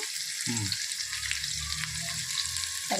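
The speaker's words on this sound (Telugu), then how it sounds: "మనం ఉన్నప్పుడే అల్లం వెల్లుల్లిపాయ పేస్ట్ వేస్తాము ఇవన్నీ రెండు స్పూన్లు వేసుకుంటాము" Ginger garlic paste frying in hot oil for chicken biryani, a steady, close sizzle throughout, with a brief low clatter of a spoon near the start.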